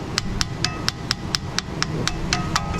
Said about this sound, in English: Why do I wanna brush the rust off of the hub?